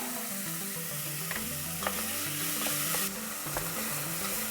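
Onions sweating with a pinch of salt in a soup pot give a steady close sizzle, with a few sharp clinks and scrapes of stirring scattered through it and no voices.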